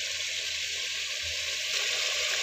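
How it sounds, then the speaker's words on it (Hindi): Ginger garlic paste frying in a pan for an aloo gosht mutton masala, a steady bright hiss and sizzle that holds evenly and swells slightly toward the end. "मैं 2 भर के डाल रही हूँ चम्मच अदरक लहसुन का पेस्ट।"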